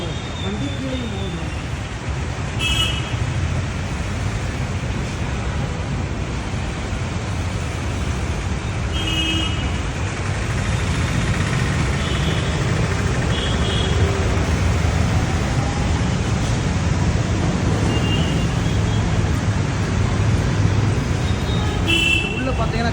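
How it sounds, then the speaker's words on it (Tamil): Continuous road traffic rumbles on and under the NAD flyover bridge in Visakhapatnam, a steady wash of engines and tyres with occasional horn-like tones, while someone talks over it. "மேலேயும் போகுது வண்டி, கீழேயும் போகுது."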